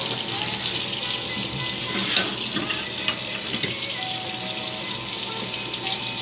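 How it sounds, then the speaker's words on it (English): Water from a tap pouring steadily into a tub being filled with dish soap for washing, a continuous rushing splash at moderate level with small clinks and a faint voice in the background. "Put a little water and soap in there. Let it fill up."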